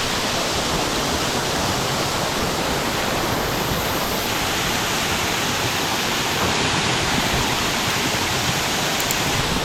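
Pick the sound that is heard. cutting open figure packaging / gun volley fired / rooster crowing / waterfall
waterfall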